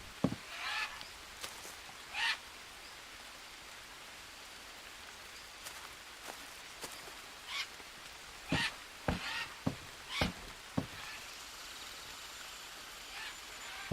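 Parrots in the jungle of the video game Green Hell give sharp, scattered squawks, several clustered together, over a soft, constant hiss of rain-like ambience.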